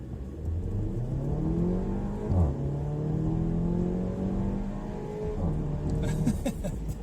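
2019 Porsche Macan with a 2-liter engine at full throttle, its note rising in smooth sweeps with quick dips at upshifts, heard loudly from inside the cabin.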